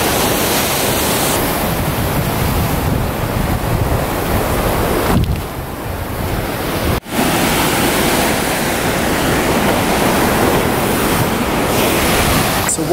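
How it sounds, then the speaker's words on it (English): Ocean waves break against rocks on a Mexican coast, a loud, steady roar of surf and spray that fills the whole stretch, with a brief dip midway and a sharp knock near the middle. "There's ocean here, ocean right beside me."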